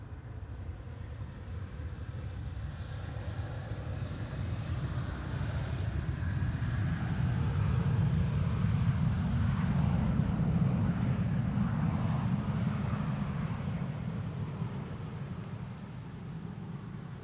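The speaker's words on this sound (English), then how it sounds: "A320 Neo" An Airbus A320neo arrives on the Polderbaan runway at Amsterdam Schiphol, a distant low rumble that swells toward the middle and slowly fades, with no talk over it.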